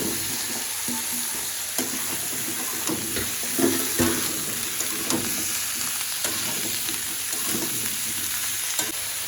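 Prawns sizzling and frying in a pan while being stirred, a continuous loud hiss with scraping stir strokes throughout, no voices.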